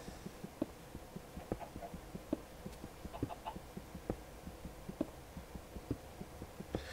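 Minecraft chickens clucking, a string of short, soft, regular clucks and pecking-like blips repeating about twice a second, faint and fairly close, with no voices.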